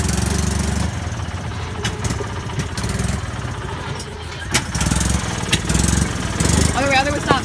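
A golf cart engine that has just had its carburetor changed runs steadily nearby with a rough, even idle. Sharp knocks and clanks break in now and then, and people talk over the engine noise.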